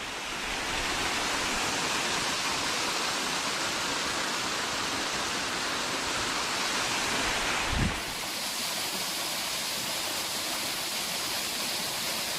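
A small seasonal waterfall pours in a constant loud, broadband rush, close and unbroken, with a brief thump near the end and no voices.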